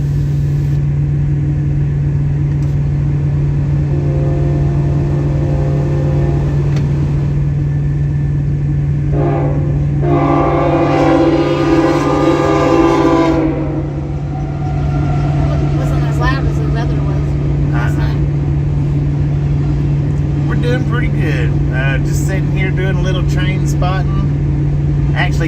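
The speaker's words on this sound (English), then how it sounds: "Getting to see a train now" A BNSF freight train rumbles past in Friona, Texas, a steady loud roar with a horn blast midway, while a person talks over the passing cars.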